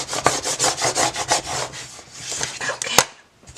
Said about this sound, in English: let's go ahead and burnish the back real quick